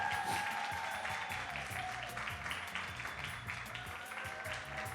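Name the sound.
audience applause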